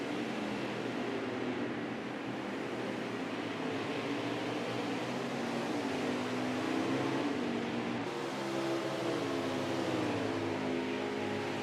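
Race car engine of the 98 Valvoline Chevrolet lapping Canadian Tire circuit in a racing video game, a steady droning whine with gradual pitch swells as it accelerates and shifts, continuous and moderately loud throughout.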